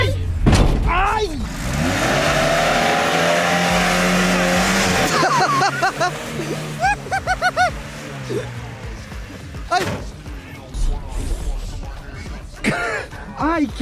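A Chevette car drifting, with engine revs and drawn-out tyre squeals rising and falling under excited shouting and talking.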